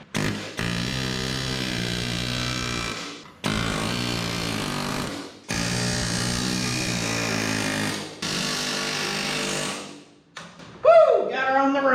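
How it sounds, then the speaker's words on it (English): An air hammer works on the body of a 1967 International Scout, breaking apart a damaged section: four long, loud, buzzing bursts with short pauses between them, followed by a quick cheerful shout. "I usually don't have good luck with our air hammer,"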